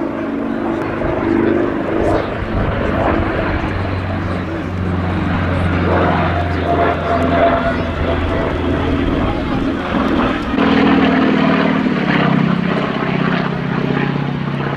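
A Super Pitts Model 12 aerobatic biplane with a big radial engine up front drones steadily, its propeller rumble loud and continuous, swelling slightly near the end as the aircraft maneuvers.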